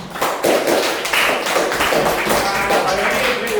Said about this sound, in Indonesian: Beri tepuk tangan kelompok 3.